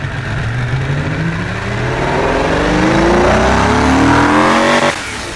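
A race car engine revs up in one long rising sweep, loud and close with a gruff, diesel-like tone, before the throttle cuts off abruptly near the end.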